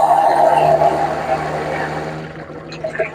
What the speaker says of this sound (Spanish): Sumergible, bomba sumergible.